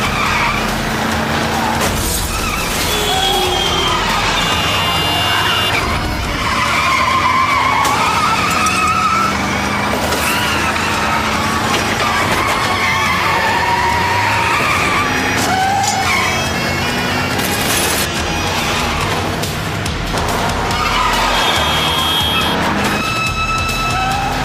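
A car skids and screeches as it is driven off, tires squealing repeatedly over revving engine noise, with shifting whines and bursts across the whole stretch, loud and close.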